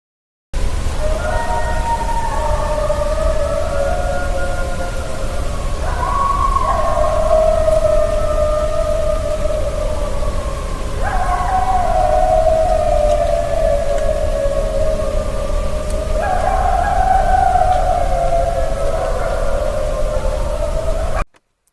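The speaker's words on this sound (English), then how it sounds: "It definitely sounds coyote-ish, maybe wolfish." Long, wavering howls of a coyote or wolf rise and fall in overlapping, drawn-out calls at night near Land Between The Lakes, several voices layered over steady background hiss with no talk.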